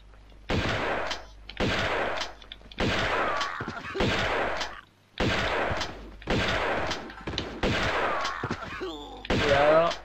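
Shotgun blasts from the video game Tomb Raider 2, heavy booming shots fired at a regular pace about a second apart, loud and close, with a short gap midway and a clatter after the last shot.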